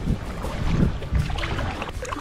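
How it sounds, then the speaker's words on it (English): Intex Explorer K2 inflatable kayak being pedalled across a lake, soft rhythmic water swishes and splashes with low rumbling thumps and light wind noise, close and fairly quiet. "We're gonna pedal over to that little island, have a little bit of a cruise forward."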